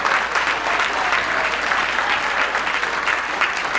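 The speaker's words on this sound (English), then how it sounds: "Give him a round of applause." A full round of applause for Mayor Willie Brown at a Juneteenth celebration, a dense, even wash of many hands clapping throughout, close and sustained.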